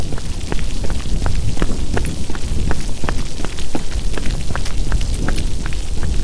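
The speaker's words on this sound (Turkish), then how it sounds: "Sisli puslu bir hava, yağmur yağıyor." Rain falls steadily in the foggy, misty outdoor world of the video game Retaliation, a dense constant hiss with scattered sharper drops and low rumble, loud and unbroken, no voices.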